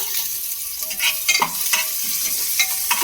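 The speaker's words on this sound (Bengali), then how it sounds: "খুব বেশি ফোড়নটাকে ভাজার দরকার নেই, একটুখানি জাস্ট নাড়াচাড়া করলেই কিন্তু ফোড়নটা সুন্দরভাবে ভাজা হয়ে যাবে।" Garlic and ginger strips frying in hot oil in a pot, a loud close crackling sizzle with a few clattering stirs of a spoon, continuous and without speech.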